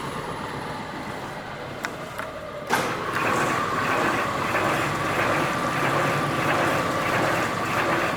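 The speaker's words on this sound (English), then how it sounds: "with it off you can hear the solenoid engaging" A solenoid on the Venturi-type pickup of a Jones CMV-5 vertical cartoner clicks sharply a few times amid loud, steady machine noise, with the running hum swelling right after the last engagement.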